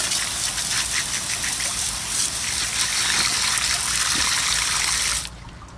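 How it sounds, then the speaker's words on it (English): Water rinsing car alloy wheels and wheel arches without a pressure washer, a steady, close, loud gushing spray that runs unbroken for about five seconds, then cuts off abruptly. "First, we'll give the wheels and the arches a rinse down."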